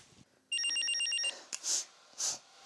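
An old-style telephone bell rings in one steady, trilling burst at moderate loudness. Faint rustling and a couple of soft hiss-like noises follow, with no voices.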